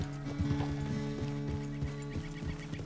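Horse hooves clop in a steady, even rhythm with occasional snorts in the video game Red Dead Redemption 2 at Pronghorn Ranch, close and clear over a sustained droning musical background.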